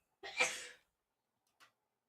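A single close sneeze, then a brief faint sound afterward in an otherwise quiet moment.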